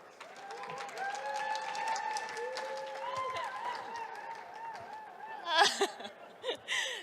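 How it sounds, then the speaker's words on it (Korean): Audience applause at a startup pitch competition stage as the final rookie-league company is called up, steady clapping running under sustained musical tones for several seconds before a brief louder burst near the end. "큰 박수와 함께 이지태스크 무대 위로 모셔보겠습니다."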